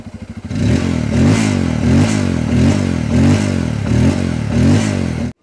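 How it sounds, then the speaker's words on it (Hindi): A Bajaj Pulsar N250 motorcycle with a twin-barrel exhaust revs close by, giving a throaty, pulsing engine note in repeated rising blips over a steady idle after a brief start. "ट्विन बैरल टाइप का यहाँ पर आपको एग्जॉस्ट मिल जाएगा। इसका साउंड आपको सबसे पहले सुनाना चाहूँगा।"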